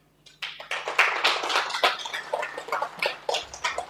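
An audience at the Securenet Odisha Partners Meet 2023 applauds, a close, busy patter of many hands clapping that starts abruptly and continues steadily for over three seconds.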